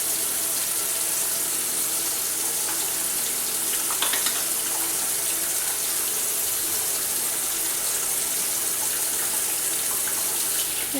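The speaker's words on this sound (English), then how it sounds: "So right now I'm going to re-wash my hands." Running tap water pours steadily into a sink as hands are washed in a home kitchen during supper preparation, a continuous close hiss with no talking.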